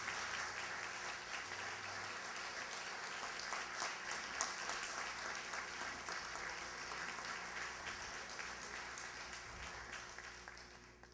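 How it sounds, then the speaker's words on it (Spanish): Prolonged applause at an award ceremony honoring Dr. Germán Ricardo Aparicio Lemke, with many hands clapping steadily for about eleven seconds and fading slightly at the end. "Felicitamos con un fuerte aplauso al doctor Germán Ricardo Aparicio Lemke"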